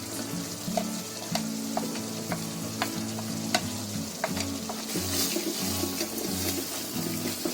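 Ground spices such as coriander powder and turmeric frying in a pan while being stirred, a steady sizzle broken by repeated clicks and scrapes of the spoon against the pan, close and quiet, with a low hum underneath and no speech.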